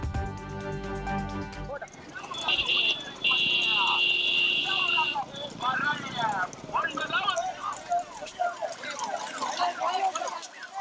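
Bulls pulling carts in a bullock cart race drum their hooves in rapid clip-clop beats, mixed with shouting crowd noise and a blaring horn-like tone.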